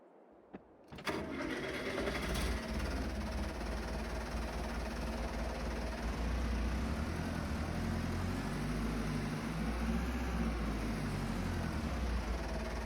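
A tractor engine in Farming Simulator 22 cranks briefly after a moment of quiet, then catches and settles into a steady, loud, low diesel rumble that runs on evenly without any voices.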